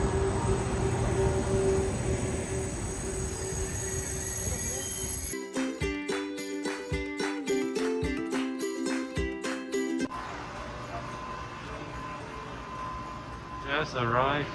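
A train from Seoul to Busan rolls along its rails with a steady rumble and high squeal, then a stretch of rhythmic metallic clacking before the rumble returns.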